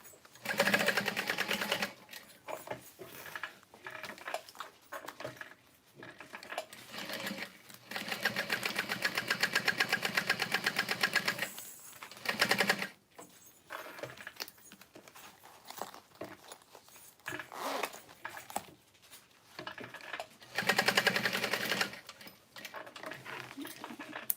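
Sewing machine top stitching the exterior of a zippered wristlet, running in several bursts of fast, even needle chatter separated by pauses with light fabric handling, fairly quiet and close.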